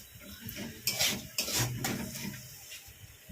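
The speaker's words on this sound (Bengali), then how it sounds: "টমেটোর পেস্টটা দিয়ে ভালোভাবে নেড়ে একটু ফ্রাই করে নিতে হবে।" Tomato paste stirred and fried in a pan for a Kashmiri-style young jackfruit curry, with a utensil scraping and clinking against the metal pan in a few close strokes, a faint sizzle underneath and no talking.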